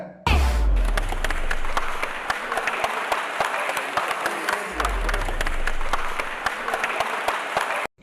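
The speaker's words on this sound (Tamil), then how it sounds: "அங்கே இருக்கிற எல்லாரும் பயங்கரமாக ஒரு கைத்தட்டல் ஒன்று கொடுத்து" A crowd on a film set claps loudly for a dance at an Onam celebration, a sustained burst of applause with sharp individual claps and occasional low thumps, cutting off abruptly at the end.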